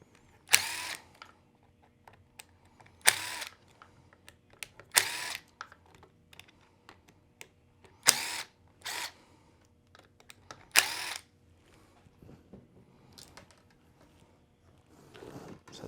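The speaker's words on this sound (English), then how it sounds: "So we're gonna pull off these 5 screws and pull this off." Powered screwdriver bursts removing five screws from the transmission cover of a Losi Promoto-MX motorcycle, in short separate whirring spurts spread across the clip, close and fairly loud against a quiet workbench background.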